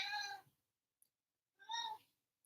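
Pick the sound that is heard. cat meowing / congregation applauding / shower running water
cat meowing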